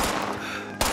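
A loud, sustained burst of gunfire from a shotgun in the video game Fallout 76, harsh and continuous for most of a second before a final sharp blast, with no talking.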